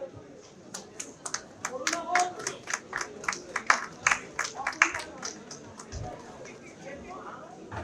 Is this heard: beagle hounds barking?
no